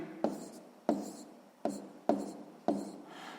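A pen scratches across paper during a sixth-grade math exercise, five short strokes in an uneven rhythm, close and fairly quiet.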